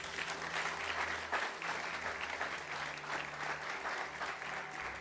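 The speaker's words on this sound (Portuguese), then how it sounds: "Quantos podem dar um forte aplauso ao Senhor?" A church congregation applauds for the Lord in a dense, steady roar of clapping that holds at an even level throughout, with a faint hum beneath.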